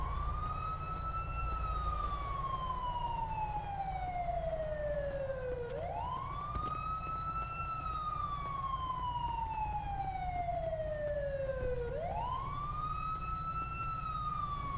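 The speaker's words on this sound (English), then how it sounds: "That siren could get shut off at any moment," A police car siren wails continuously at an outdoor scene with fireworks involved, slow rising-and-falling cycles repeating about every six seconds over a low idling vehicle rumble, loud and steady with no talk.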